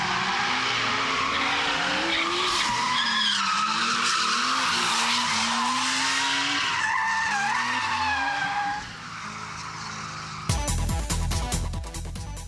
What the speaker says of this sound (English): Scenes like this is how drifting all started.